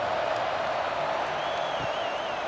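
Stadium crowd at a USC Trojans college football game against Michigan State, a steady, fairly subdued roar of many voices filling the space, with a faint whistle-like tone rising partway through.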